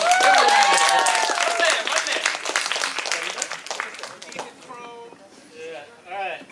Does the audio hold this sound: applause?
yes